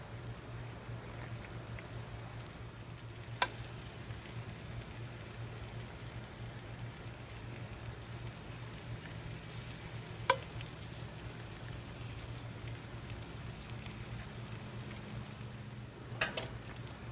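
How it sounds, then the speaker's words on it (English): Eggs fry in a Lodge cast iron skillet on a Weber kettle grill, giving a steady, quiet sizzle throughout, broken by a few sharp clicks and taps. "I'm gonna try to fry a couple eggs"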